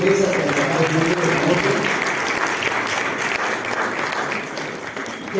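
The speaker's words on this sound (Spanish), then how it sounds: "Y aplauso para todas las mesas que han trabajado muy bien" A conference audience at a missionary event applauds warmly, many hands clapping together in a full, sustained burst with faint voices mixed in, easing slightly toward the close.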